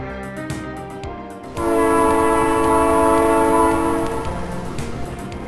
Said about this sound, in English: 110 train cars a day bring in low sulfur coal from Wyoming